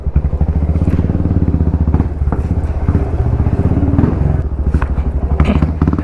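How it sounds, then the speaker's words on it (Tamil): Close and loud, a Royal Enfield Meteor 350 with an RRP exhaust is blipped repeatedly, its uneven throttle bursts punctuated by crackling pops and thuds. "அந்த பாப்ஸ் குர்ரா பட்டுன்னு இந்த நிற்கும் போது அப்படி ஒரு த்ராட்டில் கொடுத்துடணும்"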